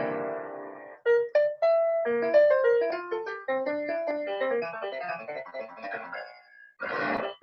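Piano Genie, a machine learning piano app played through eight keys, produces a quick, bright melodic run of piano notes, clear and close, with a brief noisy burst at the end.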